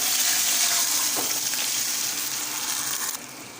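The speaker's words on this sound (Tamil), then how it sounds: "நம்ம மிக்ஸ் பண்ணி வச்சுருந்த ரவா புளி கரசலை உள்ளே சேர்த்துடலாம்" Semolina and tamarind batter hits a hot tempering in the pan and sizzles loudly in a constant hiss. The hiss eases slightly and then drops suddenly near the end, with no talking.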